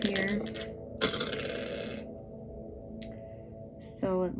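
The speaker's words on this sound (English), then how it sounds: "let me roll the astro dice" Astrology dice rolled during a tarot-style reading: a couple of sharp clattering knocks and rattles on a hard surface, close and fairly loud, separated by brief quiet stretches with faint voice traces.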